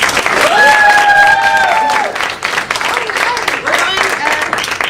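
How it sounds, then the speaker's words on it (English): An audience applauds the cast and crew of a short play, broad clapping running throughout while a cheer or voice rises clearly over it near the start and more voices join later. "Some applause for the cast and crew of King of the Lair."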